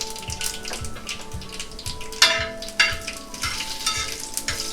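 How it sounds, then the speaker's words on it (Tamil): Urad dal, chana dal and cumin seeds fry in hot oil, a steady close-up sizzle with a few sharper crackling bursts and soft stirring scrapes, no voices. "நல்லா பொரியட்டும்."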